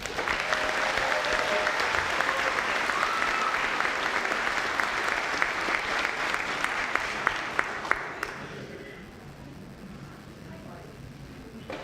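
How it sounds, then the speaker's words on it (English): Sustained audience applause fills a graduation ceremony hall, loud and steady at first, then thinning and fading toward the end. "once more, applause for all these people"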